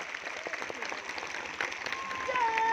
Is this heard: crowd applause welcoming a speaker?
yes